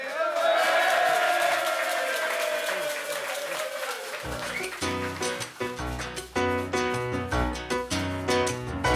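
An audience at a carnival café show claps and cheers for the performers, a dense burst of applause and whoops that gives way after a few seconds to a band starting up with a steady beat.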